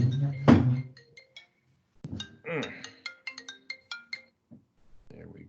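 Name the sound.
mobile phone ringing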